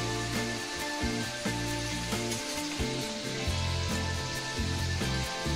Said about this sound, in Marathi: चारी बाजूने तळून घ्यायचं